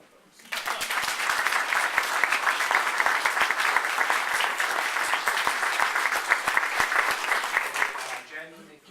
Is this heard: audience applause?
yes